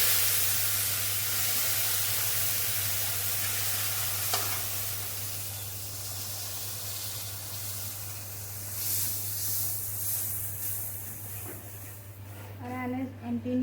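Milk poured into roasted semolina in a pan on a low gas flame, a close, steady hiss and sizzle as it is stirred, ending in a few clinks and scrapes, with no voices.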